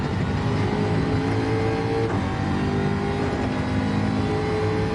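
Race car engine in Gran Turismo 7 at Fuji, a continuous loud mid-pitched drone held steady with a brief dip and re-rise in pitch midway, like a revving downshift.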